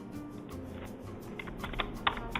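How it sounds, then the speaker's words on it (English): A computer keyboard is typed on in a quiet room, soft irregular clicks at first, then sharper, louder keystrokes bunching toward the end. "start typing your elements"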